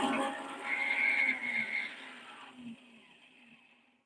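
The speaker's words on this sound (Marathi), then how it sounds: "मिक्सर लावते त्यामुळे मिक्सरचा आवाज आहे" A mixer grinder runs loud and steady while grinding batter for fasting-style medu vada, its motor whine holding for about two seconds before dropping to a quieter hum that fades out.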